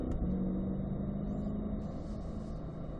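A C8 Corvette accelerating out of a corner on a track at Spring Mountain in Las Vegas, a steady in-car engine drone rising in pitch, continuous and moderately loud.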